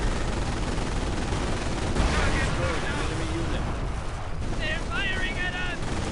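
Gunfire aimed at half-tracks in a war video game, with a dense, continuous rumble of battle noise and scattered shots running throughout, mixed with brief tonal game effects toward the end.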